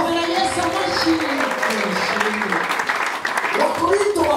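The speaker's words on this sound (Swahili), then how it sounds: "Tabia Yesu makofi." A church congregation applauds in praise of Jesus, a dense, steady wash of clapping that fills the space throughout, with voices chattering and calling beneath it.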